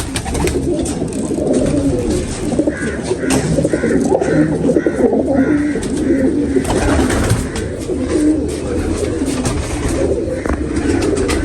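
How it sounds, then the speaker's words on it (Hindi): Pigeons cooing in a loft kept by a pigeon fancier for racing, steady close cooing with bird calls over a constant background hum, no talking. "ये बड़ा शानदार कबूतर है जी"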